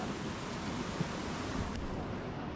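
A river dividing the India-Pakistan border in Kashmir's Keran Valley rushes as a steady, broad hiss of flowing water, mixed with some wind, heard continuously at a moderate distance.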